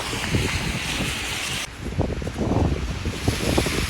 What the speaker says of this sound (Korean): 이게 모스크바는 바람이 안 부는 줄 알았더니 바람도 많이 부네요.